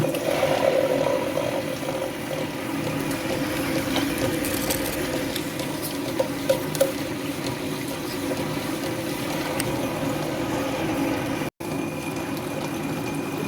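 Wet grinder grinding soaked urad dal with a little fenugreek, a steady droning whir with a low rumbling churn that holds constant and close, briefly cutting out once near the end.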